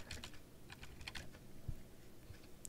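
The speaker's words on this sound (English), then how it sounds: "You type in a wiki name, so like mine is MCIS wiki." Fingers typing on a computer keyboard, a loose scatter of quiet key clicks in short bursts with brief pauses, faint and close, no talking.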